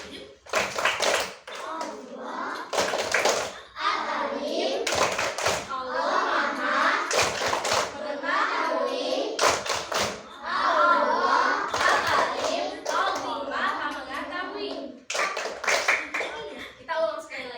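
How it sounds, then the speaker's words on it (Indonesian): Schoolchildren in a classroom perform the Tepuk Al-Alim rhythmic clapping chant, sharp bursts of hand claps breaking up steady group chanting and speech, loud and close throughout. "kita bertepuk Al-Alim dulu yuk"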